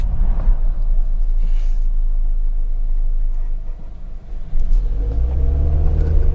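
A Mazda MX-5 2.0 Kuro Edition Roadster rumbles steadily from inside the cabin, then the engine note dips and climbs again as it revs, loud and alone.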